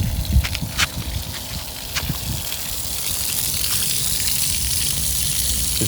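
Water gushes steadily from a broken campground tap that won't turn off, in a continuous hiss that builds and holds, after a few brief knocks at the start.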